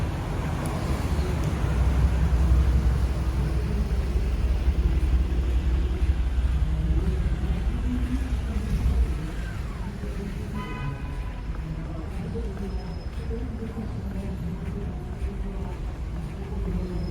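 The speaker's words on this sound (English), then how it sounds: "Traffic, also a constant here in Atlanta." Downtown Atlanta city traffic: a steady broadband rumble of passing vehicles with wind buffeting. It is louder for the first nine seconds, then settles to a lower, constant street hum.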